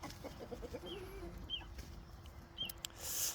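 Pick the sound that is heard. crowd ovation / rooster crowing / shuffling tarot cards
rooster crowing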